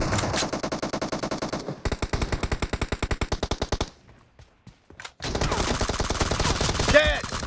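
Automatic gunfire in the PUBG video game, with rapid rhythmic bursts of loud close shots, a short near-silent pause, then heavier continuous firing, a voice briefly calling out during the fight.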